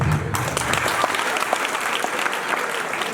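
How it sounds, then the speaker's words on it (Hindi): Applause after a farewell speech at a Saraswati Vidya Mandir senior secondary school fills the room, a dense, steady clapping from the assembled crowd that lasts throughout. "जोरदार तालियां इस स्पीच के लिए"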